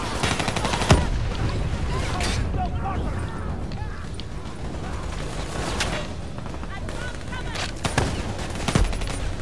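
In Black Ops 3 gameplay, an object explodes amid a dense battle soundscape of rapid gunfire and sharp bursts. Loud and continuous, with several punchy blasts and a voice speaking over the din.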